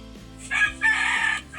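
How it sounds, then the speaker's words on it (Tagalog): A rooster crows once loudly and close by at a dive spot, the call rising and holding for about a second before trailing off, with no talk over it. "Ayun, may manok."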